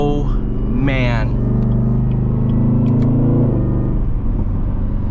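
Chevrolet Camaro ZL1 V8 engine rumbling and revving under load, the deep exhaust note rising and falling close by, with pops and crackles on overrun and a person talking over it.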